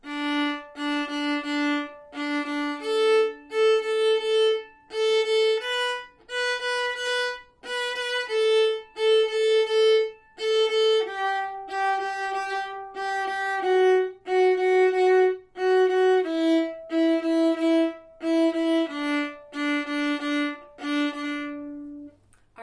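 A viola plays a rhythmic pattern of repeated bowed notes, shifting pitch across several phrases, clear and alone with no talking.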